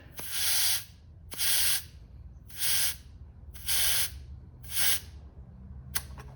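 Air hissing out of a tire valve in short bursts while lowering the pressure from 40 to 36 psi: five loud, even hisses of about half a second each, separated by brief pauses, then a small click.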